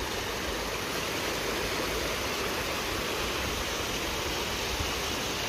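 A waterfall at Samahni, Azad Kashmir, pours in a steady, dense broadband roar that fills the scene without pause, loud and close, with no voices.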